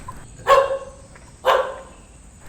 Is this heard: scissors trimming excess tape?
no